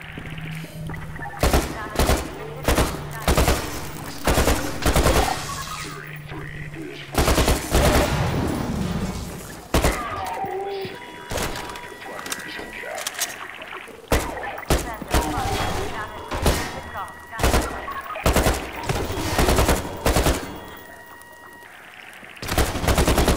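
Repeated bursts of AK-47 (AKM) rifle fire in Half-Life 2 (Raising the Bar Redux), loud, close shots in rapid volleys and single cracks spread across the stretch, with someone talking in between.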